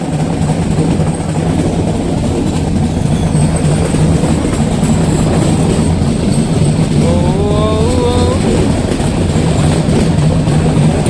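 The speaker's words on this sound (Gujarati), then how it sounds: "જંગલમાંથી ટ્રેન છે" A metre gauge train rumbles past close by through jungle in Gir, with a continuous heavy roar, rattling wheels and a brief high squeal partway through.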